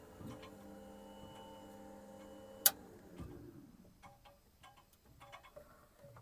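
The electric fuel booster pump on a BMP's UTD-20 diesel engine hums with a steady, quiet whine. A sharp click cuts it off, leaving faint scattered ticks.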